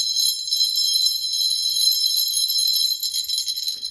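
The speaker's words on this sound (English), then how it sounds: "it's actually a finger bell, so you put your finger in it" A Meo brass finger bell rings with a bright, shimmering high metallic tone that sustains and wavers continuously, heard alone and close.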